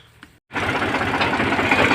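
A tractor engine runs steadily near a thresher being hitched up at a farm before heading to a sugarcane field, a loud continuous diesel rumble that kicks in after a brief quiet gap and carries on without talk.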